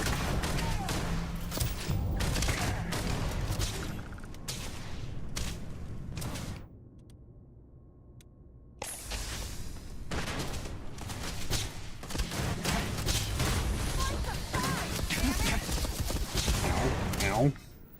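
Starfield firefight with thrown grenades going off as loud booms among rapid gunfire bursts, dense and close, dropping briefly to near quiet midway before the shooting and blasts resume; a voice talks over parts of it.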